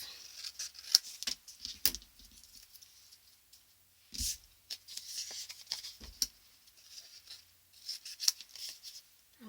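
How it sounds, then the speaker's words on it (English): Scissors snipping pieces off paper while assembling a floral mini folio flip album, heard as a series of quiet, crisp cuts in separate bursts with short pauses between them. "I'm just going to cut those off"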